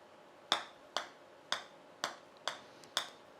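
A Wilson Staff Model golf ball is tapped in a noise test, giving six or seven crisp, firm clicks about half a second apart, close and clear with nothing else around them.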